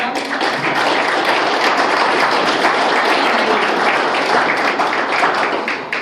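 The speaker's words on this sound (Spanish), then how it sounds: "Un fuerte aplauso." Dense, loud applause from an audience at a popular panel on peace and sovereignty in Venezuela, sustained steadily for several seconds as a poet is introduced, then tapering slightly at the end.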